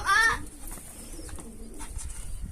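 A pigeon gives a short, close coo right at the start, then outdoor quiet follows with faint rustling and a few soft, distant sounds near a pigeon loft.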